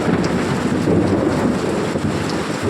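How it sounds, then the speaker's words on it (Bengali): Heavy rain falls in a village during a storm, with deep thunder rumbling continuously beneath the dense, loud patter, close and unbroken. "ভীষণ আকাশ ডাকছে"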